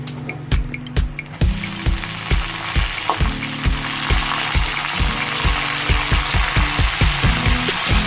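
Spinach dropped into hot oil with browned onion, garlic and whole red chillies, crackling and sizzling with sharp clattering stirs in a regular rhythm, close and fairly loud.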